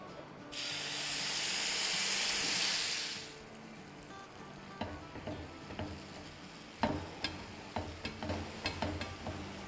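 Chicken pieces dropped into hot oil for a taco pizza topping, a loud bursting sizzle that swells for a few seconds, then settles into a steady fry with repeated clatters of stirring and turning.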